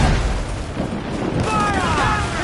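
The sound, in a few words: gunfire volley after a fire command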